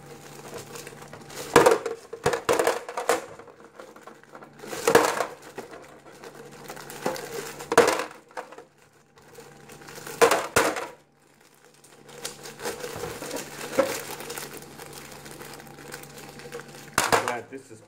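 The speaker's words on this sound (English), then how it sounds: "Now we're gonna get the gravel" Aquarium gravel is poured into a plastic Marina EZ Care betta tank, producing several short, loud rattling bursts separated by pauses, with a voice faintly in the background.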